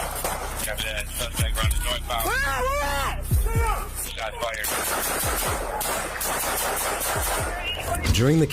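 Rapid bursts of gunfire crack through a chaotic police shootout outside a home, shots repeating in clusters over a dense background of shouting voices and commotion.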